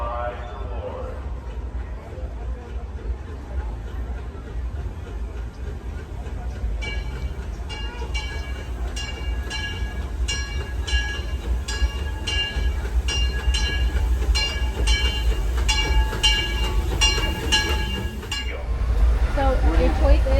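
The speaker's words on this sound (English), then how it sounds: "Now arriving from a trip around Walt Disney's Magic Kingdom, passengers will stand by to board" The Disneyland Railroad steam train pulls into the station with a steady heavy rumble and ringing metallic clinks and tones that grow louder toward the end. A crowd murmurs throughout.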